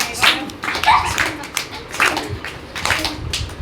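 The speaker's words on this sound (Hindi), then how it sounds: "आओ हमारे संग बजाओ ताली" Rhythmic hand claps keep time with a children's song, a few spaced claps sounding under singing voices.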